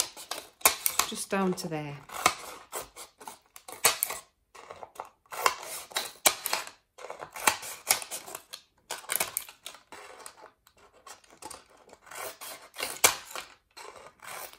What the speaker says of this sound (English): So I'm just going to cut down at intervals.